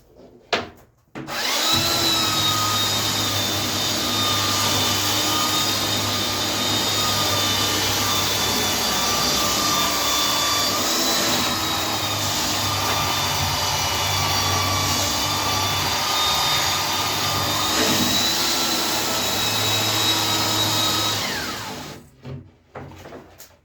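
A 1960s Craftsman Sears belt sander whirs and grinds against wood in one long continuous run, a loud steady motor drone with a high whine that starts abruptly and winds down at the end.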